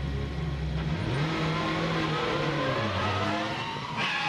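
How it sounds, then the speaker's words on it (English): WTCC touring race cars piling into one another during a crash on the Macau street circuit, with loud continuous engine drone and shifting revs throughout, a brief skid-like change near the end. "Franz Engstler gets into the back of Ivar Muller, and everybody piles in behind him"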